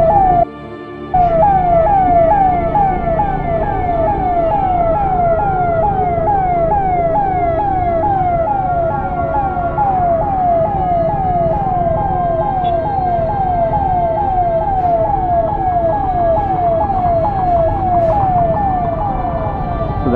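An ambulance siren wails, cycling steadily up and down, loud and close, sounding continuously for the whole stretch over low traffic rumble.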